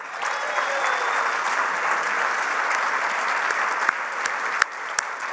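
Loud, sustained applause from the audience at a women's professional bowling Hall of Fame induction ceremony, with dense clapping and a few sharper individual claps standing out near the end.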